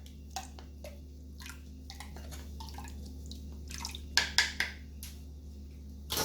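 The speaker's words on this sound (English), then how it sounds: "So straining off my ginger right here." Blended ginger juice drips through a strainer in sparse, irregular drops and small splashes, with a quick cluster of louder plops near the end, all over a low steady hum.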